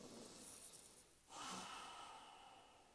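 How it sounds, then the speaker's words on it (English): A single deep inhale taken during a calm guided energy exercise, a soft, close rush of air that swells midway and then slowly fades. "let's take a deep breath in"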